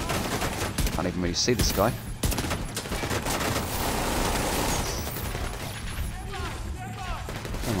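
Pistol gunfire from the Regulus exotic pistol in the shooter game The Division 2 cracks amid dense, continuous game combat noise, loud and close, while someone talks over it.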